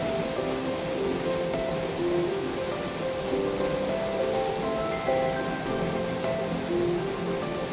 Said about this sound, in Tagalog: Ang lakas din ng ano, patak ng mga tubig, eh.